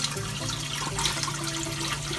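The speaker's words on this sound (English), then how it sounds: "turn on your fresh water" Fresh water runs into a saltwater mixing station in a steady splashing, gurgling stream under a faint low hum, continuous and close.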